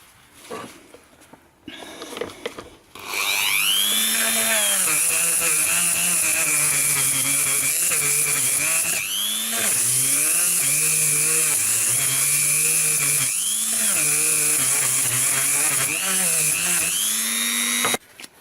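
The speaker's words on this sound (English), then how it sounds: "the easiest way to do the inside is with a Dremel" A Dremel rotary tool grinds loudly and continuously inside a Motobécane Mobylette relay box, its high whine dipping and rising as it bites into material, after a brief quiet start.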